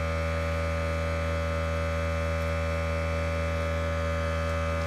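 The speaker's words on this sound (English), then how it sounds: "While that compressor's going on, I'll keep talking to you guys." An airbrush compressor runs steadily throughout, giving a constant, even electrical hum with no pauses and no voices.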